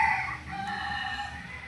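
A Polespark Gray bloodline gamefowl rooster crows once, close and loud, a long drawn-out call with faint clucking from other fowl behind it.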